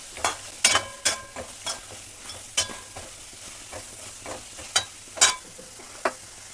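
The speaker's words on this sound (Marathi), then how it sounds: "थोडंसं तेल टाकून भाजून घेऊ। त्याचबरोबर हे खोबरं देखील कांदा लाल झाला थोडासा की हे खोबरंही त्याच्याबरोबर भाजून घेऊया" Onion and coconut roast in a little oil for a spice paste. A soft sizzle runs underneath while a spatula scrapes and knocks against the pan in sharp, irregular strokes about once a second, close by, with no talking.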